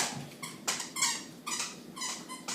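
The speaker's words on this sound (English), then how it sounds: "He's just running around squeaking the squeaker." A dog runs around squeaking a squeaky toy in a room, producing a series of shrill rubbery squeaks in irregular bursts, faint and somewhat distant, with no voices over them.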